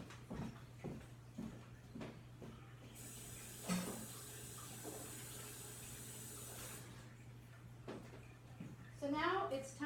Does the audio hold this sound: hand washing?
yes